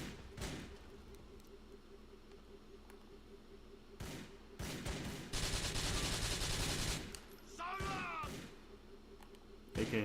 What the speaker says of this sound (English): It's not an AK, it's an assault rifle.